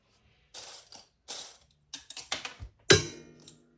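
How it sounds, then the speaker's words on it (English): A small plastic sewing clip clatters onto the floor with a sharp click, amid a scatter of rustling and ticking handling noises in short bursts. "I dropped a clip on the floor"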